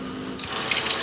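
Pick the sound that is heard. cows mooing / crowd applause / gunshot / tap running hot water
tap running hot water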